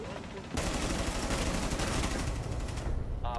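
Dense, loud sustained gunfire fills a Rainbow Six Siege firefight, continuous rattling shots that start abruptly and end with a short electronic chirp.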